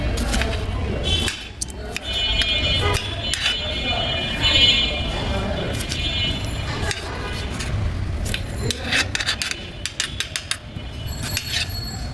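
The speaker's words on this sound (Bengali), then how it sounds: "আমি টমেটোটা এখন কেটে নেবো।" A knife slices a tomato on a cutting board for tomato chutney, with repeated crisp cuts and knocks against the board at close range, and a voice speaking between strokes.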